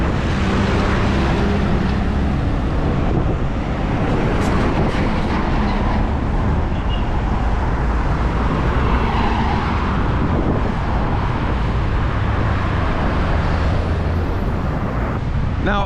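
Steady, loud road traffic, mostly taxis, rolls through a tourist area of Cancun as a continuous wash of engines and tire noise without distinct breaks.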